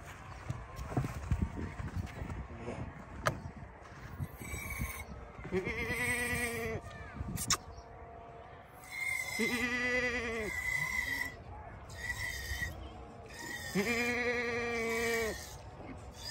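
A goat bleats on a goat farm, several drawn-out, wavering cries spaced a few seconds apart over a low rustling, shuffling background, fairly faint and with no talk.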